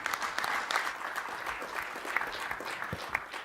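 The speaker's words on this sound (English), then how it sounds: "Round of applause for everyone." Applause from the audience at the close of an open mic session at a members meeting, steady, fairly distant clapping from a room of people sustained throughout without talk.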